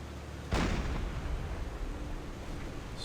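A single heavy boom of naval deck-gun fire in the submarine game Silent Hunter 4, a sudden loud blast followed by a long rumbling decay.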